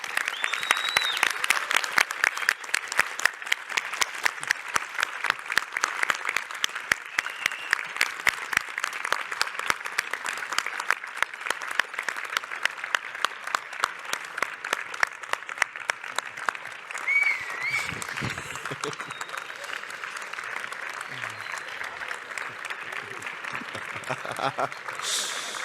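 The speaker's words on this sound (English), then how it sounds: "So big round of applause once again." An audience at a live-streamed tech panel event claps in a sustained round of applause, dense and steady at first and then thinning toward the end, with brief speech over it.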